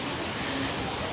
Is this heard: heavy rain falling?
yes